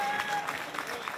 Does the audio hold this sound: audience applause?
yes